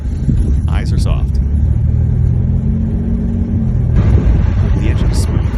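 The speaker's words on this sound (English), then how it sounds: "The engine is smooth." Peugeot 406 Coupé V6 engine running smoothly, a steady low rumbling idle close by that continues throughout, with people talking over it.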